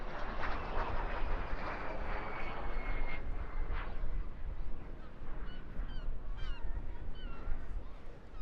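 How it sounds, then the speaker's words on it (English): A vintage Vampire FB52 jet of the Norwegian Air Force Historical Squadron passes at an air show by the sea, its steady broad jet roar filling the air while gulls call faintly in the background. "the Vampire FB52 from the Norwegian Air Force Historical"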